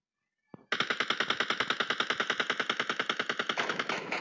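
A single sharp shot, then a sustained, rapid automatic burst of an MP5K submachine gun in PUBG Mobile, loud, evenly rhythmic and running about three and a half seconds.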